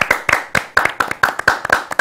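One person clapping hands in a studio, about ten crisp claps in a fairly even rhythm, close and loud over roughly two seconds.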